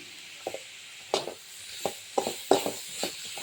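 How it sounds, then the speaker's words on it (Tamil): Bitter gourd kootu with ground coconut being stirred in a pan, a series of soft scraping and sloshing strokes at an irregular rhythm, close and fairly quiet, with no talking. "அந்த தேங்காயை சேர்த்து இதே மாதிரி தான் கிண்டி கொடுக்கணும்"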